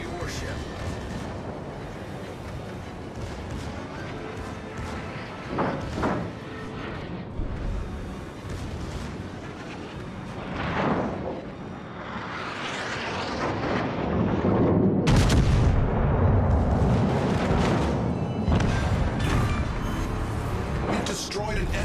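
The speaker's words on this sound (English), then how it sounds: "Concentrate fire on the enemy warship" Heavy naval guns boom in a warship battle game as a battleship fires on an enemy vessel, with deep, rolling blasts building into a sustained, loud barrage under a game voice.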